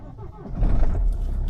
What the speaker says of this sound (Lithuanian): Porą mašinėlių pasikūriau.